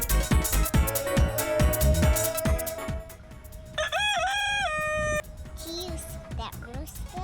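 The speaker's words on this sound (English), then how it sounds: "Here's that rooster." A rooster crows loudly and close by, its long rising-and-falling call standing out over a busy outdoor background of voices and other noises.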